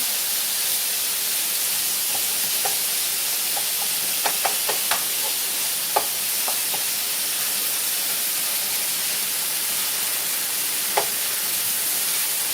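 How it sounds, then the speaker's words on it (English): Ground beef browning in a pan for spaghetti gives a steady, loud sizzle and hiss throughout, with scattered small clicks and taps of a utensil against the pan. "And then you just let the ground beef brown."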